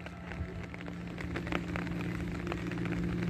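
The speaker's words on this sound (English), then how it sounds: "but it's rainy days" Rain comes down on a rainy-day hike on Jin Island, a continuous soft patter and hiss of drops with a low steady hum beneath it, no speech.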